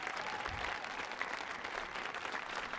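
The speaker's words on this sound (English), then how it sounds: "Let's give all of these young people another round of applause for this amazing evening." An audience at an evening student performance at a stage venue applauds steadily, a continuous even patter of many hands with no pauses.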